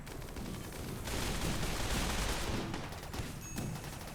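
Turret gunfire from a base defense in the colony-building game Rimworld, a dense, continuous burst of rapid shots that holds at a loud, steady level for about four seconds with no talking.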